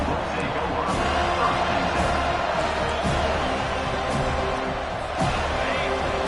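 A packed stadium crowd at a college football game, Florida State against Washington, roars loudly and steadily throughout, a dense wall of noise under an announcer's play-by-play commentary.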